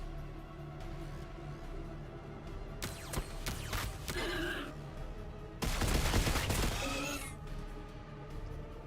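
Gunfire in the video game Warhammer 40K Battlesector: bursts of shots and crashing volleys come in clusters, loud and dense mid-clip, over a steady low game soundtrack.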